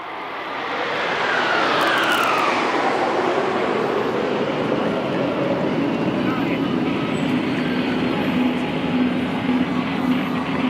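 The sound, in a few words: Suryakiran aerobatic team jets flying over at air show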